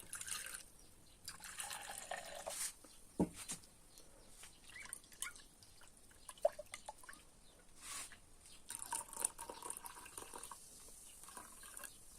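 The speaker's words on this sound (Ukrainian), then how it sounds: "воду наливаю щоб сполоснути стакан" Water poured into a glass to rinse it, done while recovering silver from a GI-7B vacuum tube; a quiet, close trickle and splash with small drips, fairly faint throughout with no talk.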